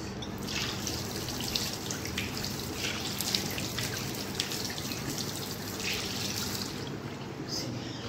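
Water runs and splashes softly into a basin while a face is washed, a faint, steady trickle with occasional drips throughout, fairly distant, with no talk.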